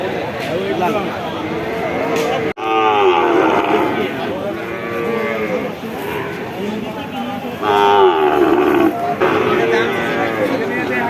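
Cattle moo repeatedly, loud and close, with long drawn-out calls overlapping amid a busy crowd at the Jessore cattle market in Bangladesh, with people talking throughout.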